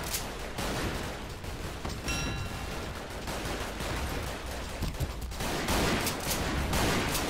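Shotgun blasts and grenade explosions from the action video game Double Action Boogaloo sound in a dense, loud barrage, with repeated sharp bursts over continuous booming chaos and no voices.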